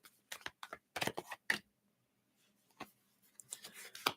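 Close, quiet riffling and tapping of reading cards being shuffled, delivered in short bursts of crisp flicks separated by brief pauses.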